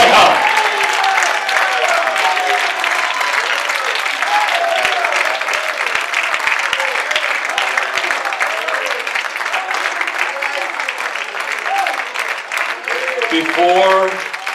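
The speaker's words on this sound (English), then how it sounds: "Clap your hands, all ye people, and shout." A Pentecostal church congregation claps and shouts together in a loud, sustained wave of praise, with many voices mixing over continuous applause that swells again near the end.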